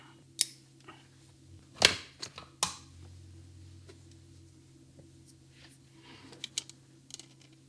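A red wire is snipped short with cutters at a workbench during S gauge toy train wiring, giving a few quiet, sharp clicks with near silence between them.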